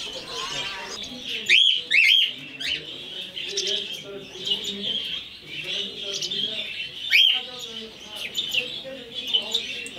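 Parakeets at a bird club show give repeated sharp chirps and squawks over a steady twittering flock chorus, with some faint background talk.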